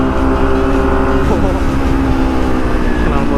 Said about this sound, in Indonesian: Knalpot H2 nya gila